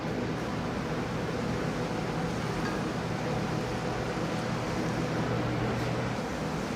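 Hot oil at about 350 degrees poured over ginger and chilies makes a steady, dense hiss of sizzling that holds evenly the whole time, close and unbroken, with no talk.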